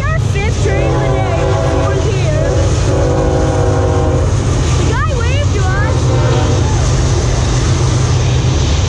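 A Norfolk Southern freight train rolls past with a loud, steady low rumble while its horn sounds in several blasts, with a final long blast near the middle.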